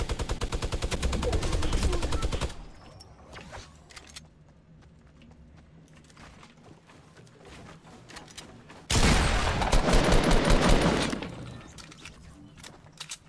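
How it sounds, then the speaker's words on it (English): Video game gunfire in loud rapid bursts, an automatic volley at the start and another around the middle, with scattered quieter shots and clatter between. "I'm getting shot in the fucking back."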